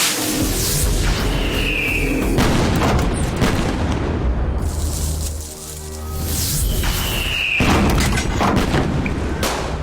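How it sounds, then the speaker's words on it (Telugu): Firecrackers burst repeatedly at a village jatara festival, a dense, loud barrage of sharp cracks and booms nearly throughout, dipping briefly midway before resuming at full intensity. "టపాకాయలు చప్పుడురా."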